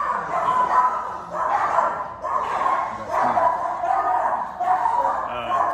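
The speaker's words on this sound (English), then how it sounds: "we have some pretty ferocious dogs with low ground clearance, so they can sniff stuff out" Guard dogs bark in a repeated series of rough, fairly close yaps and yips, coming in bursts with short pauses between them.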